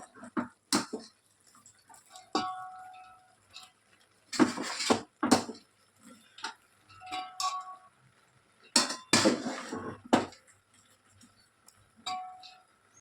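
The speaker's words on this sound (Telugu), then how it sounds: "ఇగో హాఫ్ బాయిల్ అయిన రైస్ను చికెన్లో మనం లేయర్ లాగానైతే వేసుకోవాలి" Half-boiled rice is spooned in layers over chicken in a biryani pot, making intermittent clinks and scrapes of a metal ladle against the vessel, with soft rustling bursts between quiet gaps.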